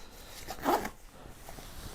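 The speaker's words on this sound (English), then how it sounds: "The zippers are not YKK" A non-YKK zipper on a low-cost Sayram SP1 EDC pouch is pulled once: a short, close rasping zip in the middle of the clip, with quiet room background around it.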